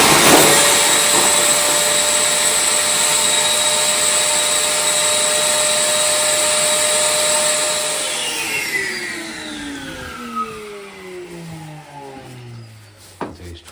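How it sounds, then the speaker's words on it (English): A Hoover vacuum cleaner runs steadily close by with its hose sealed onto a Vaillant boiler outflow, a loud whining drone that holds for about eight seconds and then winds down in falling pitch as the motor stops. "So grab the hose off the hoover."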